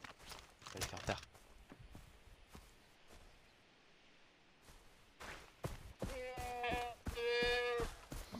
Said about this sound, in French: Mouton.